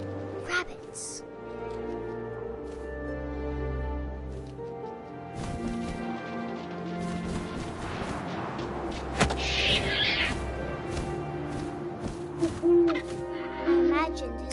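An owl hoots in the video game What Remains of Edith Finch, with soft hoots among swelling game music, ambient effects and a few dull booms, partly under a speaking voice.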